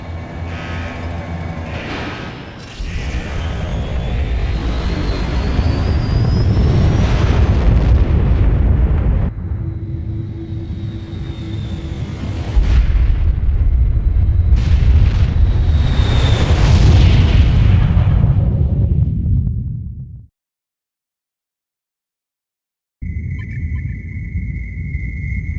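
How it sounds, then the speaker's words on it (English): Missile launch and explosions in a Warzone 2100 game cutscene: loud sustained roaring booms and rumbles in several surges, a sharp cutoff into brief silence, then quieter rumble with a steady tone. "Third level missile code cracked. Missile launch sequence initiated."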